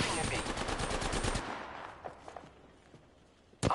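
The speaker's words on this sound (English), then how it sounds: "The enemies are shooting at me." Enemy gunfire in the Apex Legends video game, a dense rapid burst of automatic shots that cuts off, followed by a few scattered single reports and a sharp loud hit at the end.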